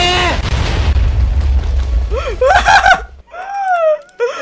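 A loud, deep rumbling Minecraft explosion fills the first few seconds, then fades into chirpy electronic game effects and sweeping tones.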